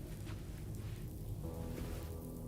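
Steady rain falling indoors inside a building in the video game Death Stranding 2, a soft even hiss with faint patter throughout and no talking.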